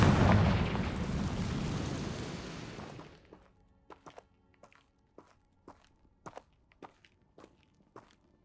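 A Confringo blast spell bursts in the video game Hogwarts Legacy, a loud rumbling explosion that fades over about three seconds, followed by a string of sharp, scattered thuds and clicks.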